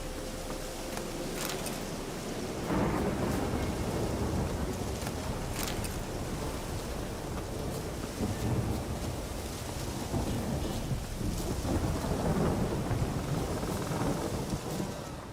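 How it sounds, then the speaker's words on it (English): Steady heavy rain pours through a thunderstorm in The Witcher 3, with rolling low thunder swelling and fading across the whole stretch and a few sharper crackles near the start. "A storm, damn it."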